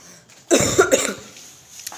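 A single close cough bursts out, followed by a short raspy throat-clearing tail, with quiet room noise before and after.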